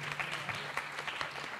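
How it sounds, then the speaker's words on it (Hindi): Applause from an audience at an award ceremony organised by a naat academy, dense clapping sustained throughout at moderate distance, with a faint steady hum underneath. "तो ढेर सारी तालियां माँ बाप के नाम पर"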